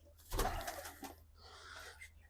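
Pigeons kept by a Punjabi pigeon fancier give a short, soft coo, faint and close, with a quiet steady hum underneath.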